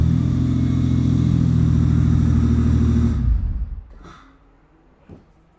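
Ford Bronco II truck engine running loud and steady with a low rumble for about three seconds, then cut off abruptly and winding down into near silence, followed by a faint knock.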